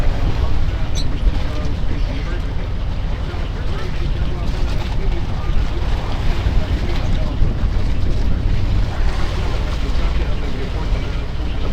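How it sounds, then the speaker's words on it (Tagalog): Gusty northeast monsoon wind blows at sea aboard a boat, a loud, steady roar of wind buffeting the microphone with water and engine rumble beneath, while someone talks over it. "Bugso-bugso lang guys ang amihan dito sa laot."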